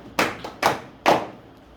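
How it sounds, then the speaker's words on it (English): A few scattered hand claps, three main sharp claps with a softer one between, brief and close, like a small group starting to applaud. "Give Rahash a round of applause"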